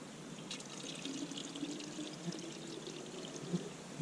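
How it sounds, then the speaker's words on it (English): Water pours steadily from a 1-liter Nalgene bottle into a Kelly Kettle outdoors, making a close, quiet, continuous trickling splash for several seconds with no talking. "So let's get it filled with water."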